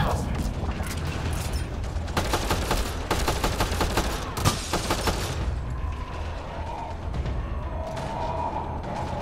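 Continuous gunfire in the sci-fi shooter game Mass Effect Andromeda, rapid bursts of automatic shots layered over a rumbling battle bed, loudest in the first half and thinning toward the end, with voices mixed in.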